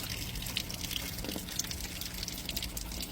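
Water trickles and splashes steadily from a fish tank valve outlet into an aquaponics grow bed, a continuous close-up flow with faint drips and no talking.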